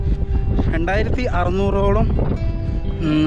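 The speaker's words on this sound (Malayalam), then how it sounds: "അടിപൊളി കാറ്റ്, നല്ല ഫീലാണ്." Strong wind buffets a microphone on a mountain trail, making a constant low rumble under a voice talking close by.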